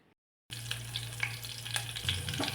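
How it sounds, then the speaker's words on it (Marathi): After a brief silence, mustard seeds and cumin start sizzling in hot oil, a continuous crackling hiss with small pops, close and steady. "मोहरी छान अशी तडतडली की लगेच जिरे घातले"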